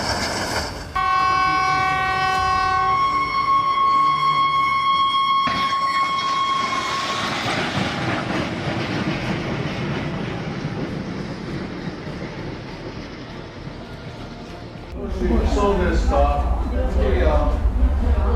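A train clearing snow on an industrial scale sounds a long, loud, steady horn, then roars on with a broad rushing, scraping wash of noise that swells again near the end.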